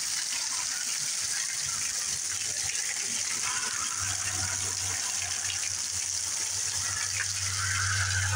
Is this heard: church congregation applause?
no